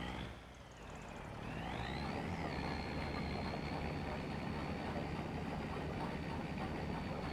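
A large tractor pulls a spreader across a field in Farming Simulator 25, its engine droning steadily and loudly after a short quieter start, with a rising whine settling into a constant high tone.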